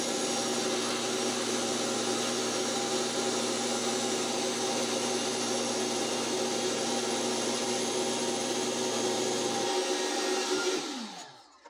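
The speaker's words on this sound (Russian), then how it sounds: "Буду пробовать использовать пылесос." A vacuum cleaner drones steadily and loudly while a groove is cut in a block during a homemade aluminium melting furnace build, holding a constant whine for about ten seconds before winding down and cutting off.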